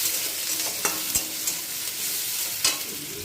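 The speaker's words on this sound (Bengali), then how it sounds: "পেঁয়াজটাকে তেলে পরে দিয়ে একটু ভেজে নেব" Onion frying in oil in a pan gives a steady close hiss, with a few sharp clicks and scrapes of stirring and no voices.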